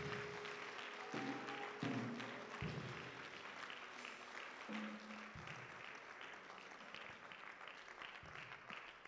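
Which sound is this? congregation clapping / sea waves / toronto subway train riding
congregation clapping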